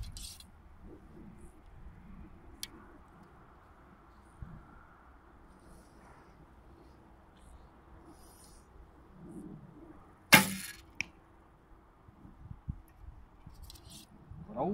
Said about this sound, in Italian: Adesso proviamo a tirare la freccia.